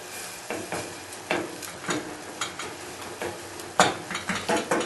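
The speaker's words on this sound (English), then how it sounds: "we're going to let it cook in its own juices." Minced beef cooking in its own juices in a pan, with an irregular series of close, soft scraping and stirring strokes over a steady low sizzle and no talk.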